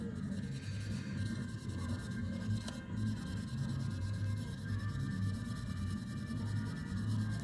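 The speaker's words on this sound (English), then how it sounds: "And then just start polishing away." A 1968 Camaro roof rail molding being hand-polished to lift leftover tar and glue, a steady close rubbing and rasping that runs unbroken and fairly quiet throughout, with no talking.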